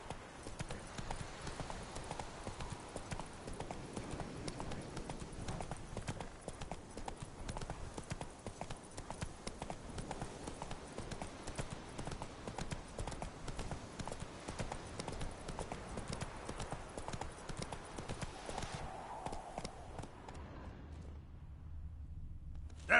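Roach, a horse from The Witcher video game, trots with steady rhythmic clip-clopping hooves, continuous and fairly close for most of the stretch before thinning out at the end.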